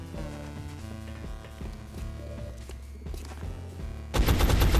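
Sustained automatic gunfire from XCOM: Enemy Unknown thuds out in rapid repeated bursts over a tonal musical backdrop, ending in a sudden loud blast of noise.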